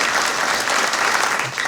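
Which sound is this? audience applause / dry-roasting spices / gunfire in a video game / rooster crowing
audience applause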